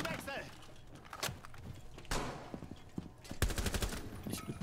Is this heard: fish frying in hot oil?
no